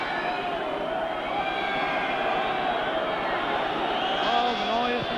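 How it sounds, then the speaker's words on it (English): The rugby crowd at the 1989 Wales v New Zealand match roars continuously during a kick at goal, with whistling threaded through a steady, loud, distant-sounding din. "Oh, the noise from the crowd, not sportsmanlike at all"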